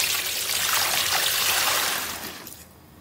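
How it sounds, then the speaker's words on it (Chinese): Water poured in a steady close stream in a kitchen while cooking, a continuous splashing pour that tapers off near the end, with no talking. "倒水"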